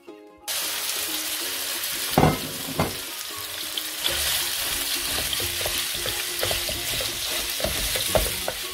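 Minced keema sizzling in two tablespoons of hot oil in a pan, a steady bright frying hiss throughout with occasional scraping stirs and clatters near the start, close and fairly loud, no talking.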